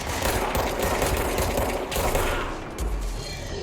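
Rapid automatic gunfire from enemies in the action video game Control crackles in dense, continuous bursts, loud and close throughout.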